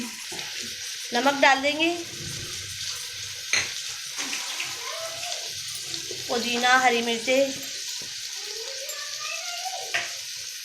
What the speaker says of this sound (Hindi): अदरक लहसुन को अच्छे से भून लेंगे।